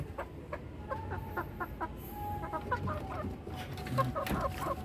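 Chickens cluck repeatedly nearby in short, irregular bursts, with soft rustling and background farmyard noise.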